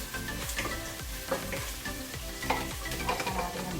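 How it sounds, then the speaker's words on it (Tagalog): String beans with oyster sauce sizzling and frying in a pan, with repeated scraping strokes of a utensil stirring them in a steady rhythm, close and moderately loud, with no voices. "ito, magigisa na tayo ng sitaw. With oyster sauce."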